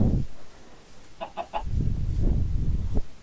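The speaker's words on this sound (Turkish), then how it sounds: "Tavuk var. Çok tatlı." A Minecraft chicken gives a quick burst of three short clucks in the middle, with soft game ambience and faint low thumps around it and no speech.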